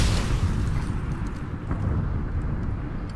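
A bomb goes off in the battle-royale game PUBG, a loud, sustained low roar and rumble that fills the whole stretch with no clear break.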